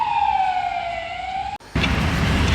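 An ambulance siren wails loud and close on an Istanbul street, its tone sliding steadily downward, then cuts off abruptly and gives way to broad street and traffic noise.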